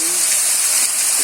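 A tall mountain waterfall rushes after heavy rain, a dense, continuous hissing gush that stays loud and unbroken through the short moment.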